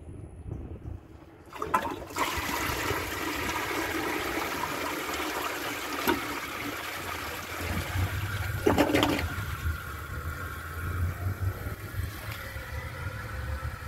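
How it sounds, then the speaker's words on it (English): A 2003 comfort-height Eljer Patriot toilet flushes a grocery bag, with a sharp start, then a strong, steady rush and swirl of water that continues loudly before easing into refill flow. "Let's see if it passes."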